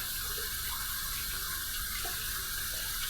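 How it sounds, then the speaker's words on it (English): Hot water runs steadily from a tap into a sink, a constant close rushing hiss without pause or voices. "we're going to heat this up under some hot, hot, hot water"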